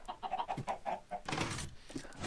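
A Minecraft chicken clucks in a quick run of short, evenly spaced calls, then a louder burst of broadband game noise follows, all close and without talk.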